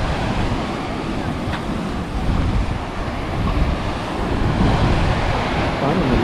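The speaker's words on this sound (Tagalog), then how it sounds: "Pero malalakas pa rin yung alon." Strong ocean waves at a rocky shore, a loud continuous rumble of surf churning with heavy wind noise buffeting the microphone throughout.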